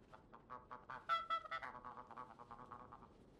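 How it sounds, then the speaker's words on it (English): A goose honks in the co-op adventure game Knights and Bikes, a burst of nasal, cackling honks rising to a loud peak and then trailing off into quieter chatter. "No honking out there, Mr. Feathers"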